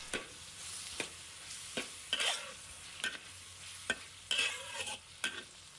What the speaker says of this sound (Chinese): 炒芥菜的时间不宜过长，以免失去脆嫩的口感